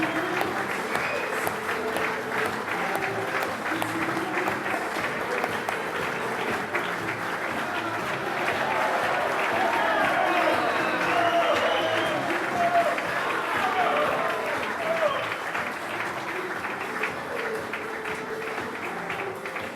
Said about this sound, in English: I think this one will get a massive cheer